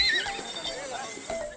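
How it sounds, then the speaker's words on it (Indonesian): A horse ridden in the Pasola mounted ritual on Sumba neighs in a high whinny close by, with faint hoof clatter and background crowd noise. "Dua kesatria memacu kuda Palawi, kuda milik Rato yang dikeramatkan."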